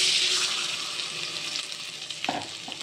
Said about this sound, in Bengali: প্রত্যেকটা মাছ এইভাবে বেসনের ব্যাটারে একটু কোট করে নিয়ে